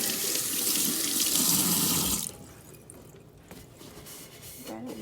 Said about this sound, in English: And then rinse it off.